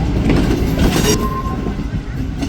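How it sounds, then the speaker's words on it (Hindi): Bulleh Shah Passenger train with CNR coaches moving on rails between Lahore and Khudian Khas, a steady loud rumble of wheels and carriages with a brief faint squeal, continuous throughout. "ट्रेन फिर चली गई है"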